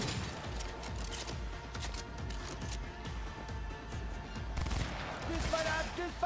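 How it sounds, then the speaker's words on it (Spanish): Gunfire in the video game Cyberpunk 2077: sustained rapid bursts of automatic shots at moderate volume, continuous through the clip with a brief electronic tone near the end. "¡Disparad! ¡Disparad!"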